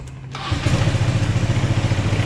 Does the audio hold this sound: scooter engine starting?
yes